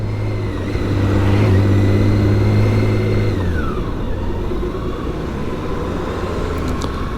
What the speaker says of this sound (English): it's already starting to get busy here with traffic